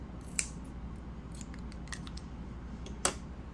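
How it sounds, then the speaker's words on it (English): Two crisp scissor snips cutting crochet yarn for a hen apron ring out about three seconds apart, close and clear against a quiet room with light handling noise between them. "now I'm gonna cut it like this"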